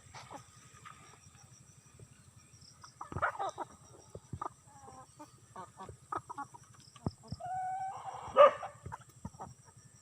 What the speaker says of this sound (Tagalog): may alaga din akong mga manok